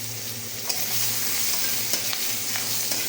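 Onions sizzling and frying in leftover fish-frying oil with bay leaves, chilies and cumin, a steady hiss punctuated by occasional stirring clinks and scrapes.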